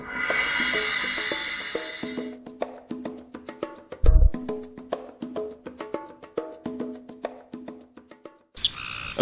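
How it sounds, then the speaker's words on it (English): A Woodhouse's toad calls in a loud, close series of rapid pulsed croaks that repeat steadily, with a short high chirp and a brief low thump breaking in near the end. "It's a woodhouse toad."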